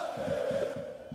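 Serbian football ultras chant in a large stadium crowd, a sustained roar under a rhythmic pulse of repeated shouts.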